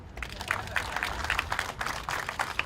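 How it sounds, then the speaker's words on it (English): Moderate audience clapping at an outdoor mural unveiling for a Buffalo heritage district project, steady and fairly distant, with voices murmuring underneath. "you can clap for them"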